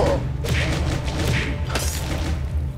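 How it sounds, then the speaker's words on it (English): Repeated dull thuds and crunchy smashes of melons being broken apart with kung-fu moves in a video game, a few distinct impacts over a steady low rumble of game audio. "I have sliced the melons with my kung-fu."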